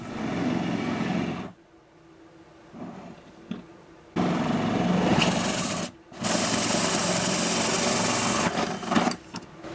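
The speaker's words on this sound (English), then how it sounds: "You would think after drilling several holes in the bottom of the van that that would get a little bit easier" A power drill bores through the metal floor of a 2021 Ford Transit van, loud grinding bursts of about three and four seconds broken by a short quieter gap, heard up close with no talking.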